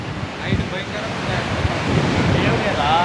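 Sea waves rolling onto a beach under strong gusting wind that buffets the microphone, a dense continuous roar of surf and wind with no clear speech.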